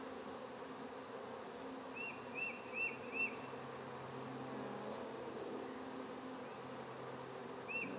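Honeybees hum steadily at an open hive in February in Fairplay, Maryland, a dense close drone with a few higher whining passes from single bees.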